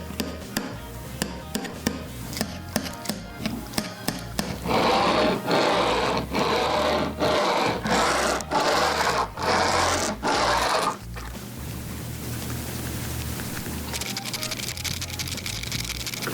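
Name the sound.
Tech Deck fingerboard pop test, board tail popping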